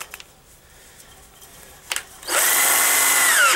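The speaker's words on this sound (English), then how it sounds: "Stick that in the drill" A couple of faint clicks, then an electric drill whirs up loudly nearby and runs steadily to the end.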